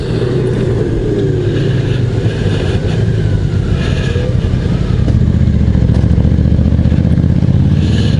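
A 2024 Honda Goldwing Bagger's six-cylinder engine with DCT gearbox runs on the road, a steady, smooth, loud drone with broadband wind and road noise throughout, growing slightly louder in the last few seconds.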